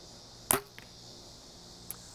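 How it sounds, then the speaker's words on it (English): A hunting arrow fitted with a lighted nock and broadhead is shot from a bow: one sharp, close snap and whoosh at release, followed by a faint tick and a distant thud, with quiet in between. "I'm going to go ahead and shoot this arrow so you guys can see in slow motion how it's flying out of my bow."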